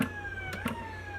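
A LAMPHUS SASRN01 police siren in manual click mode lets out two short, quiet electronic yelps over a steady low hum, without any talking.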